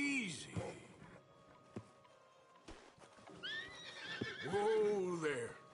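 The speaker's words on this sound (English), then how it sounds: "Marston, you're gonna tether him up to Javier's horse" A horse whinnies and neighs in Red Dead Redemption 2, shrill rising-and-falling calls at the start and again louder near the end, with hoof clip-clops and quieter background noise between.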